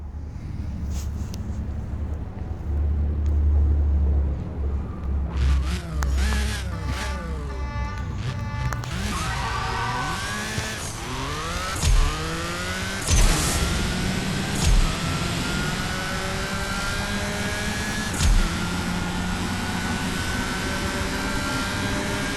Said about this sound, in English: Now we actually could hear the turbo.